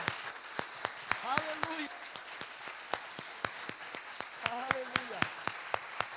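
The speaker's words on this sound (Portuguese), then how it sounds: "dá uma salva de palmas para Jesus" Church congregation clapping in sharp, evenly spaced claps during a worship service, with a preacher's voice calling out over the rhythm and a sung or chanted line rising through the middle.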